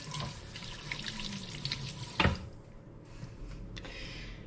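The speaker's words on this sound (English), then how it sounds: "I'm just gonna get my hands wet here." Kitchen tap water runs into a sink as hands are wetted while making sourdough, a steady close splashing stream with a brief louder splash midway before the flow thins.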